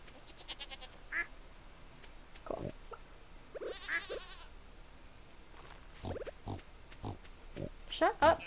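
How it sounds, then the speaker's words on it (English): Pig grunts and squeals from the Stardew Valley farming game come in several short bursts scattered through the clip, mixed with other farm-animal bleats and a person talking over them. "Shut up, pig, dude. You hearing this, pig?"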